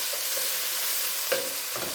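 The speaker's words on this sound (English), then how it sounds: "And give it a stir." Onions frying in a pot for chicken curry get stirred, giving a steady soft sizzle with a spoon scrape near the end, quiet and close with no voices.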